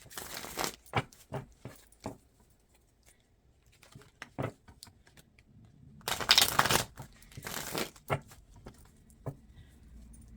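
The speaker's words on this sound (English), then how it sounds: "So I'm going to give the deck a couple shuffles." A deck of tarot or oracle cards being shuffled by hand, bursts of riffling and crisp card slaps in short rhythmic runs separated by pauses, close and fairly quiet, with one longer flurry of shuffling near the middle.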